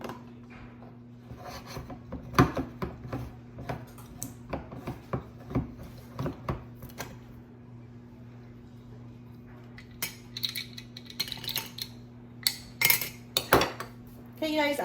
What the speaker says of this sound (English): I'm going to finish opening these cans